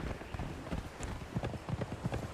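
Horse hooves from the Conan Exiles video game with a horse mod, a steady clip-clop of footfalls under a dense, continuous game soundscape.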